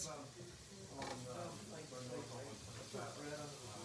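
Onions sizzle as they fry in a pan for shakshuka, a soft, steady crackle heard under a person talking throughout.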